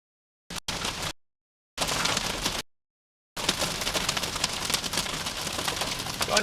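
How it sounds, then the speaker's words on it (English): Hail pelting a storm-chasing vehicle during a severe storm, a dense hiss of ice hitting the roof and windows. It comes in two short bursts broken by silence, then a steady, loud clatter that keeps going. "Oh, here comes the hail."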